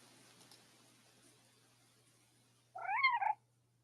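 A single cat meow, clear and rising then falling, over a faint background hum; short and close, with no talking.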